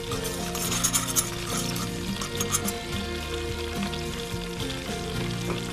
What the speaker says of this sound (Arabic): حطينا اول الطحين نقلي. بس خليه شويه يغمق لونه.